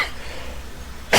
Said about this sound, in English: I'm sorry, I am having little cough